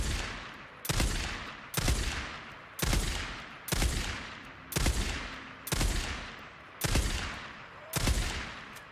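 Sniper rifle shots fired at zombies in Days Gone ring out in a steady series of eight loud, sharp cracks, each about a second apart with a decaying tail, with no talking.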